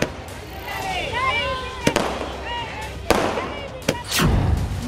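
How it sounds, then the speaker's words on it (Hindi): Celebratory fireworks for the women's reservation bill crack and pop in several sharp bursts at irregular intervals, with whistling streaks and a rumbling boom at the end, while people talk over the noise. "आतिशबाजी भी हुई।"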